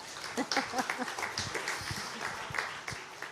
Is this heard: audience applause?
yes